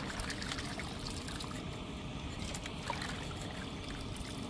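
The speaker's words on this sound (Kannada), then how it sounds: "ಆ ನೀರು ದೂರ ಚೆಲ್ಬಿಟ್ಟು ತಿರ್ಗಾ ತೊಳ್ಕೊಳ್ಳಿ" Rinse water from washed raw chicken is poured away outdoors in a garden kitchen, a continuous splashing trickle running steadily throughout.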